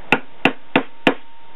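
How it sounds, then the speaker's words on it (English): A hammer strikes a small 1/16 hole punch used for textured solder jewelry work, giving four sharp, evenly spaced metallic taps close up, each ringing briefly and alone. "This one is a little punch that you hit with a hammer."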